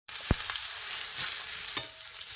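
Pumpkin slices fry in a pan with a steady, close sizzle, and a few sharp clicks from the pan or spatula are heard. No one speaks.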